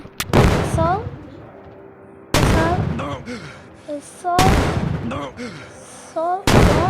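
Loud rocket launcher blasts and gunfire in a zombie-themed Indian bike driving video game, with four heavy bursts about two seconds apart, each trailing off into rattling echoes.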